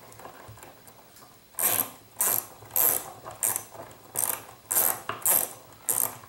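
Small wrenches tightening the clamps on a woodworking jig for making a bowl from a board, giving a string of about nine short, crisp ratcheting clicks in uneven bursts, close by and with no voices.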